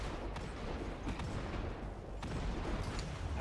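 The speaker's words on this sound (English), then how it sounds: "Why aren't these shots hitting?" Dense, continuous gunfire from a Destiny 2 firefight, a steady wash of overlapping shots and booms with no clear gaps, loud and close throughout.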